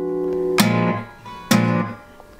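An acoustic guitar with a capo is strummed across all strings twice, each chord ringing out close and clear before fading, with no voices.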